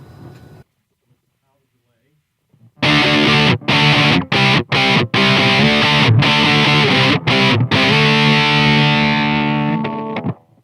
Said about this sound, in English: here's a Marshall type sound.